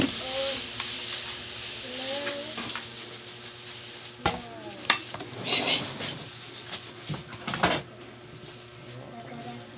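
Bagoong cooks in a pan with a steady sizzling hiss, while a utensil stirs and scrapes against the cookware. Voices talk intermittently nearby.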